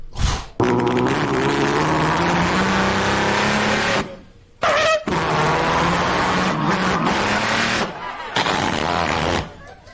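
A man vocally imitates a truck engine, a loud, continuous rumbling and revving drone with a brief break midway, performed live on stage.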